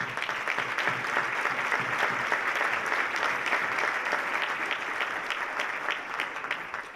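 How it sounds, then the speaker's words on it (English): A large seated audience at a county government address stands and applauds elected officials, steady sustained clapping filling the room for the full stretch without a break. "please give y'all a great round of applause"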